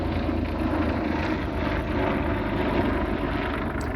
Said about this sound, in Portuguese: Tá passando um avião aqui